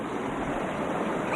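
Water flows steadily down a small Alaskan creek, a close, even rushing wash that fills the whole moment with no voices over it.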